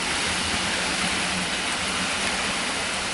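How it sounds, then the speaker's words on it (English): Rain falling outdoors, an even, steady hiss that fills the whole stretch without letting up, moderately loud and close. "It's now started to rain"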